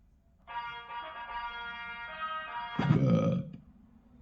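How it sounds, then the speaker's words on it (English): A burp sound effect played by an Alexa smart speaker: a long, deep, drawn-out belch with a croaking tone that ends in a rougher, louder gurgling burst before fading. "That was a deep burp."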